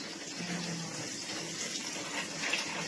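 Tap water runs into the tub of a washing machine being converted from semi-automatic to fully automatic, a steady, close, hissing stream that fills the space evenly.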